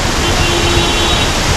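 A waterfall in Munnar, running strongly after several days of rain, roars as a loud, steady, unbroken wash of rushing water close by, with no voices audible.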